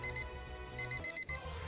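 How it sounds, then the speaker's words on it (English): A video game alarm beeps in quick repeated bursts, a high, steady electronic tone pulsing on and off several times over a low background hum. "The alarm's going off."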